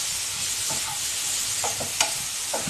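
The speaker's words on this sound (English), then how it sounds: "these are 4 tomatoes which I have cut into pieces. I'll be sauteing this." Chopped tomatoes with masala sautéing in a pan make a loud, steady sizzle, with several soft scrapes and knocks as they are stirred; no talk.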